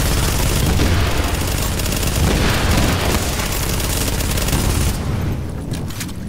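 Continuous, dense automatic gunfire roars without a break, loud and close, with rapid rattling bursts layered over booming blasts.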